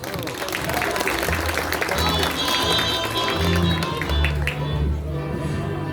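Audience applauding at a historic bicycle fashion show featuring vintage bicycles, steady clapping throughout with crowd noise and a few voices mixed in, fairly close and moderately loud.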